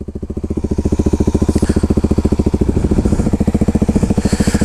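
A motorcycle on studded tires churns through snow with a steady, loud, close throbbing engine note that stays strong and rhythmic throughout.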